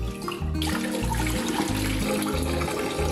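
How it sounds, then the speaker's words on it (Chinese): Tap water running steadily while pork ribs are rinsed in a kitchen, a continuous hiss and splash heard alongside background music. "排骨清洗"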